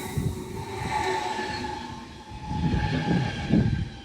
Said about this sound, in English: That is a genuine train sound.